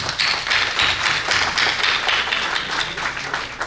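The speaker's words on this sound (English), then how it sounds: "He deserves a round of applause." An audience gives a sustained round of applause at a Siyum gathering in Crown Heights, honoring a rabbi; dense, even clapping from many hands fills the room, loud and steady throughout without talk.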